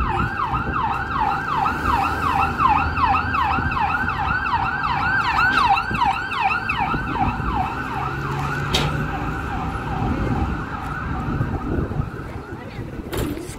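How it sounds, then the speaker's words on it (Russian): An ambulance siren in Mexico wails in rapid repeating cycles as it passes nearby, then fades away, with traffic rumbling underneath. "Скорая полетела куда-то."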